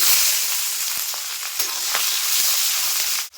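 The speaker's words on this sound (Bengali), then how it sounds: "তেল গরম হয়ে গেছে ওই তেলের ভিতরে আমি কালো জিরে ফোড়ন দিয়ে দেবো এবার দিয়ে দেবো পেঁয়াজ কুচি" Chopped onions and nigella seeds fry in hot oil with a bright, continuous close sizzle, marked by scattered crackles and a sharp stirring clatter near the end.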